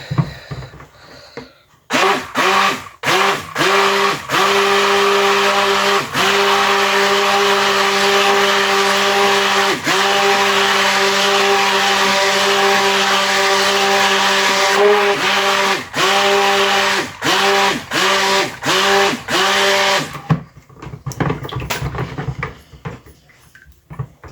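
Banana buttermilk cold process soap batter whirs under a stick blender in loud, steady bursts, its motor droning with short pauses between pulses for about twenty seconds before stopping.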